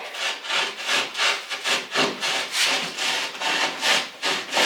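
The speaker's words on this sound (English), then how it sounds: "We don't have an actual keyhole saw, so he's using a sawzall blade." A sawzall blade held by hand cuts through drywall in a steady rhythm of about ten rasping back-and-forth strokes, close and fairly loud with no talking.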